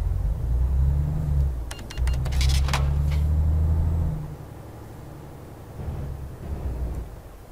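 A Volvo VH16 8x4 truck in Euro Truck Simulator 2 rumbles to life with a loud, steady low engine drone, a brief mechanical clatter over it, then settles into a quieter idle as it pulls away.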